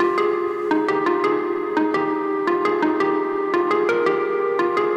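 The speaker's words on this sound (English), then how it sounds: "so this is the Minilogue that I just showed you" Korg Minilogue synthesizer played through Strymon effects pedals, a bright plucked arpeggio pattern of short repeated notes over a sustained tonal bed, steady and fairly loud with no talk.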